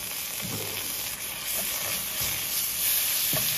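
Ginger-garlic paste hits hot oil with fried onions and ground spices in a pan for a Bengali brinjal curry, giving a steady broadband sizzle and hiss with a few faint stirring clinks, close and continuous.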